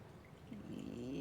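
Warm water is poured onto sourdough starter in a kitchen, a faint short splashing trickle that swells slightly as it fills over about a second.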